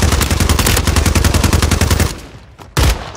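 Automatic gunfire from Call of Duty Warzone 3 comes as a loud, rapid burst of evenly spaced shots, then goes quiet and is followed by one more sharp blast.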